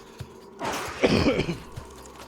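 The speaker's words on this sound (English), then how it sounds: "Ah, I got another cough coming my way." A single rough cough with some throat clearing, close by, against a quiet room background.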